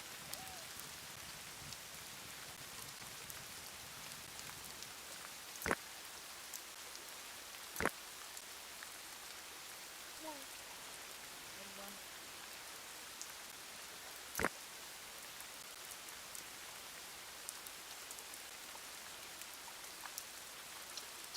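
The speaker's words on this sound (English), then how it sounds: "It's raining, but it's still dry skin." Steady rain falls in the video game Dawn of Man, a constant soft hiss of raindrops on the ground with a few sharp, isolated clicks over it and no talk.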